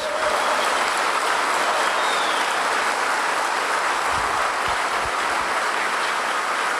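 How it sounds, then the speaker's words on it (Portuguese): Steady, dense applause from a crowd fills the whole stretch, loud and continuous without pauses. "Quem pode dar um aplauso a Deus?"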